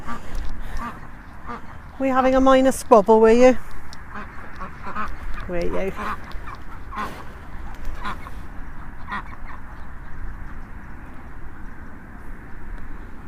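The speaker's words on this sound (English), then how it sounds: "I'm just having a look at the ducks" Ducks quack in short bursts at close range, with a person talking softly to them between the calls, and an outdoor murmur fills the background.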